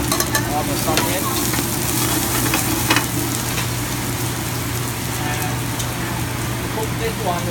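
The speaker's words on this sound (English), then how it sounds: "When this one hot, put your onion in, all the sauce in." Onion and oyster sauce hit a hot pan for chicken yaki ramen, giving a loud, dense, continuous sizzle with a few scraping stir strokes in the first seconds.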